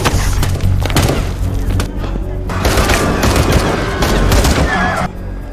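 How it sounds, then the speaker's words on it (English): A film gunfight rattles with dense, loud bursts of gunfire, booming impacts and splintering debris. The shots continue almost without a break, with a short lull in the middle before the firing picks up again. "A gunfight breaks out."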